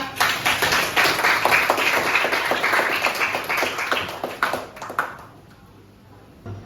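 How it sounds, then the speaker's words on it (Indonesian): An audience clapping for classroom presenters, a dense burst of many hands that holds steady for about five seconds, then thins and fades out. "Sekali lagi tepuk tangan untuk mereka."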